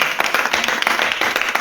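A church congregation claps in fast, steady rhythm, many hands striking together loud and close with no voices heard.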